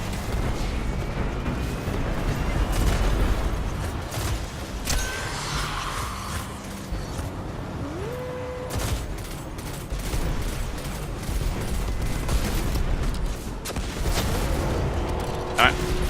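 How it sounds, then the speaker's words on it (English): Rolling explosions and heavy booms from a Destiny 2 firefight fill the stretch continuously, loud and dense with crackling bursts, while a voice talks over them now and then. "We felt those explosions from here, but we're still standing."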